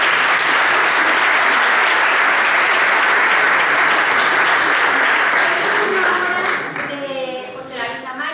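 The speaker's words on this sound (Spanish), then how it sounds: "le damos un aplauso" An audience at a regional conference panel discussion applauds steadily for several seconds, loud and dense, then thins out as a voice begins speaking near the end.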